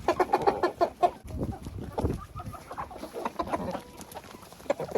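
Hens cluck in an outdoor enclosure at feeding time, a busy series of short clucks and murmurs at close range, with faint talk at times.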